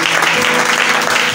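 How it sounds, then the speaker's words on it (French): A church congregation applauding and cheering for Jesus, dense steady clapping filling a short burst. "Est-ce qu'on peut acclamer Jésus de Nazareth?"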